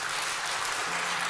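An audience claps at a lecture, a brief, even patter of hands heard from within the room.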